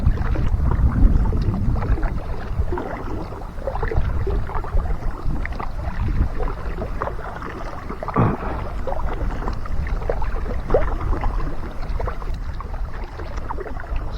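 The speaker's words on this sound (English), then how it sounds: "Somebody's rowing up there." A single rower pulls a rowboat along the Erie Canal near Fairport, with soft rhythmic oar splashes and water sounds under steady wind noise.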